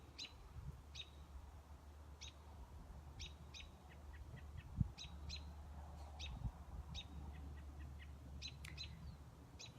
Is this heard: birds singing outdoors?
yes